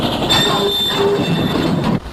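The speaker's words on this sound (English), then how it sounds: "Wow, look at that American Flyer train go." American Flyer electric toy train running, loud close rolling rumble with a sustained high wheel squeal and rattling clatter, cutting off abruptly at the end.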